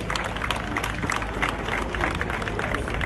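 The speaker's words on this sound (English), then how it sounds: "Please, let's give them another round of applause." A crowd claps steadily, a dense wash of applause that holds at an even level, with some voices mixed in.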